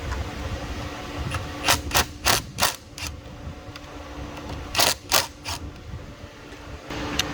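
A ratchet clicks in short bursts while size 8 bolts are loosened from the evap canister of a 2013 Ford Mustang, with sharp metallic ticks in clusters and quiet pauses between.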